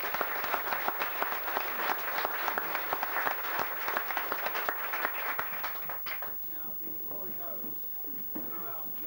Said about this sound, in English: Stand up, give it a good clap.